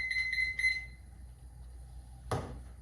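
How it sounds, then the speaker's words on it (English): A homebrewing timer beeps three quick times, then falls silent before a single short clatter; faint and close, no talk. "our timers went off"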